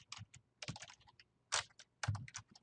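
Fingers typing on a computer keyboard in short clustered bursts of crisp clicks with brief pauses, close and fairly quiet, with no voices.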